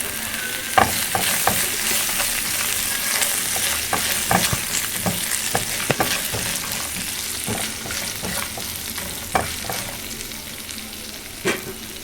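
Crushed pepper powder fries in a pan while sabudana khichdi is being made, a steady sizzle marked by irregular metal scrapes and taps from stirring. No one talks.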